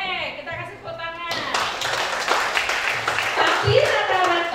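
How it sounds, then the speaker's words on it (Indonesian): An audience in a seminar hall breaks into applause after a brief pause, and the dense clapping continues to the end under and around a speaker's voice. "Oke, kita kasih tepuk tangan."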